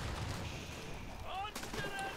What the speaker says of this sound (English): that's premature explosion right there.